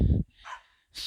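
A dog in a yard gives a single short bark up close, followed by a brief whimpering yelp and a sharp sound, all within about a second.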